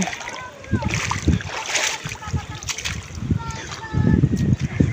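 Water splashes and sloshes irregularly close by as someone bathes in a cold river, with bursts of louder churning near the end and faint voices in the background.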